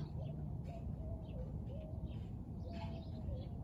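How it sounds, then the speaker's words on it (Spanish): Small birds sing in the morning among pine trees outdoors, giving faint, scattered chirps and short tweets over a constant low rumble of background noise. "Me encanta cuando cantan los pajaritos."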